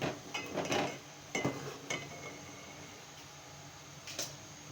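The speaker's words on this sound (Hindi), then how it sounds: "चम्मच से मिक्स करेंगे" A metal spoon scrapes and clinks against a pot while stirring a kulfi milk mixture with bread pieces. The strikes are irregular and sharp and come in a few quick clusters at close range, and the rest is quiet.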